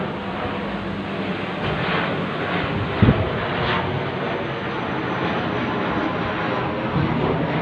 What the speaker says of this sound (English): Small patrol plane over my head.